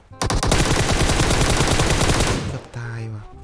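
Automatic gunfire in PUBG Mobile comes as a loud, rapid burst of shots lasting over two seconds, then stops and leaves a short electronic tone.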